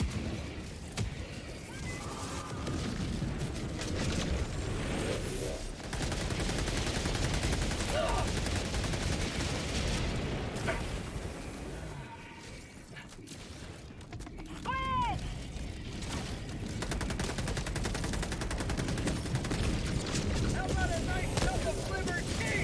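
Sustained gunfire in a video game, a dense and continuous barrage of shots with brief lulls, loud and busy throughout, with some talk in the mix.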